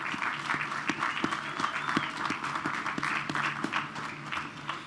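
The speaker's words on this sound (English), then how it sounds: "Please join me in applauding our commissioning committee and all those who supported making this event happen." Steady audience applause fills a ship commissioning ceremony for the USS Indianapolis (LCS 17), dense clapping from a large crowd continuing evenly throughout without any voices.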